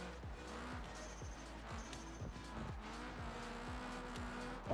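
Car engine in a racing video game revving hard with repeated downward-sweeping tones and tire squeal as the car skids, steady and close, ending in a sudden louder burst like an impact.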